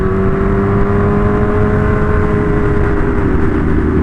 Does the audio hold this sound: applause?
no